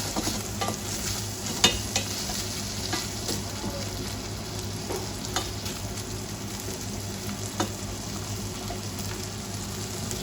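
Beans sizzle and crackle in a frying pan while being cooked for chili, a steady loud hiss with scattered pops and occasional stirring scrapes across the whole stretch, with no talking.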